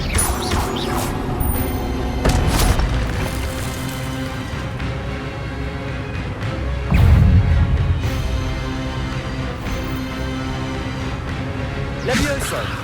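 Spell effects from the Hogwarts Legacy video game: a run of loud crashing and whooshing magical bursts over a tonal game score, with a few heavier impacts and a voice heard at times.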